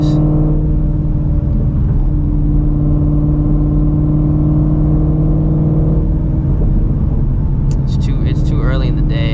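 Supercharged Ford Mustang GT350 running race fuel holds a steady, loud engine drone in third gear throughout, with a whining supercharger tone over the exhaust; a voice talks over it.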